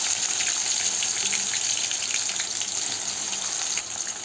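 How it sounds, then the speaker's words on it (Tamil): Onions frying in oil for chicken manchurian, a steady loud hiss and sizzle running evenly throughout with no talk. "வெங்காயம் போட்டுக்கிட்டு நல்லா வதக்கிட்டு"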